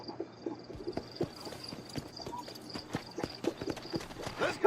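Horse hooves clip-clop in a steady uneven rhythm on a hard surface in Red Dead Redemption, fairly close, with faint background ambience and a brief snort near the end.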